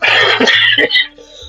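Two or three harsh, loud coughs in quick succession, close up, followed by a brief quieter moment.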